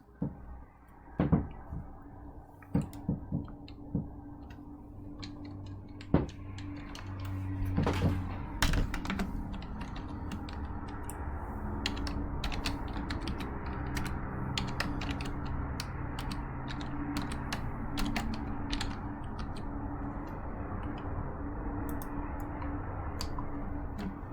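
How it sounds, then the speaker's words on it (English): Keys on a computer keyboard tap in an irregular patter of light clicks over a steady background hum, typing a math expression. "So we're going to type parentheses."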